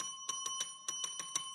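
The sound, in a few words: bell being rung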